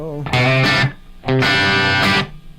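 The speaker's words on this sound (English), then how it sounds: "A little echo." Electric guitar through an echo effect pedal with P90 pickups, two loud strummed chords with overdriven, effected sustain, each ringing out before a short gap.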